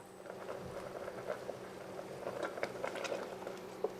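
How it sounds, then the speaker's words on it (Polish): Beef rolls stewing in water in a covered pot, giving a quiet, steady simmering patter with soft bubbling pops scattered throughout, faint and close, with no voices. "Całość zalej wodą i duś pod przykryciem około 40 minut."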